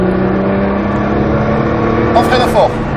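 Nissan GT-R accelerating hard on a race track, its engine droning loud and steady throughout, close up, with a brief higher whine near the end.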